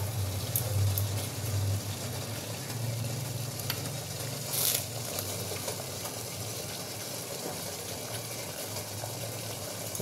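Water at a boil beneath a covered plate of chicken momos set to steam, giving a steady close bubbling hiss with a few light clinks, no voices.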